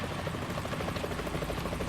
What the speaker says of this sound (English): A chopper.